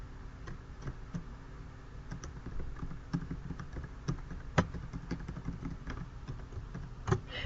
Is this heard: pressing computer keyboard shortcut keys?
yes